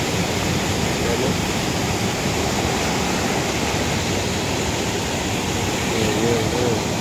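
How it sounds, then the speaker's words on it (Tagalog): Strong floodwater rushes past during a typhoon, a loud, constant broadband roar that never lets up, with faint voices barely showing beneath it near the end. "Lakas talaga ng tubig, no?"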